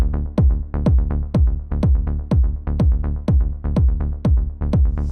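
A kick drum and bass mix plays as a steady four-on-the-floor pattern of about eleven punchy, loud kicks with sustained low bass between them, before and after glue compression, with no talking.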